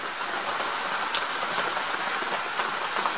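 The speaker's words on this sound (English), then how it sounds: "it's raining." Rain falling outdoors where a turtle is kept, a dense, even hiss of close drops with scattered small taps, steady and fairly loud throughout, with no voices.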